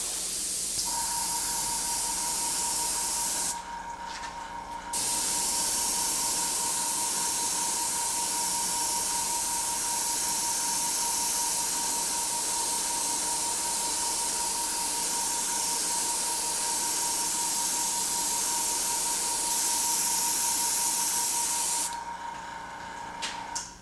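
An airbrush sprays paint onto a woodturned bowl, laying in grass through a clear mylar stencil; a close, steady hiss runs nearly unbroken, with two short pauses, and no one talks.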